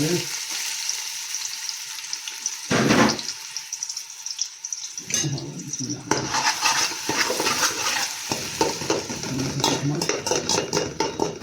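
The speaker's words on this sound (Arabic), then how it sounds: "هسه خلي الدهن يحترق، يلا ذيبون بصل" Onion frying in hot fat for a rice and broad bean dish, steady close sizzle with bursts of stirring and clatter, broken by a short louder splash-like surge and a quieter stretch before the frying resumes.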